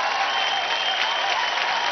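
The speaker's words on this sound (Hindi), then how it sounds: "जोरदार तालियां हो जाए" Loud, dense applause from a television dance-audition studio audience, sustained and steady throughout with no break.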